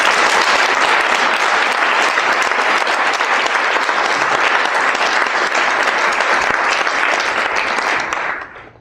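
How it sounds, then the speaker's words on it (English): Sustained, dense applause from a dinner audience honoring hospice volunteers, loud and even throughout before tapering off at the end. "I wonder if we might just give them a round of applause."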